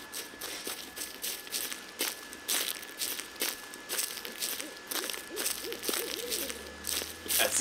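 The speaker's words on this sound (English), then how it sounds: "That's the sound of an owl who's having a good time." Soft repeated hooting of an owl in a quiet setting in the video game Slender, with rhythmic crunchy footsteps throughout and a faint low hum in the background.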